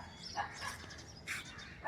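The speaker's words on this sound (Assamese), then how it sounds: "কুকুৰে ভুকি আছে একচুৱেলি।" Dogs bark outdoors outside an Assam-type house, with several short, fairly distant barks and yips scattered across a couple of seconds, and no speech.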